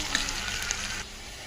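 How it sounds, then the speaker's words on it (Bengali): Onions frying in oil in a pan, a steady close hiss and sizzle over a brief moment, dropping slightly quieter toward the end. "এই পেঁয়াজটাকে একটু লাল লাল করে ভেজে নেব"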